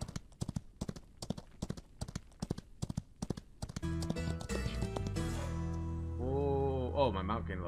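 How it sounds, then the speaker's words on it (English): Horse hooves clip-clopping in the Outlaws of the Old West video game, a fast, even run of loud hoofbeats that then gives way to game music and a voice. "I ride my horse. I got him, I better ride him."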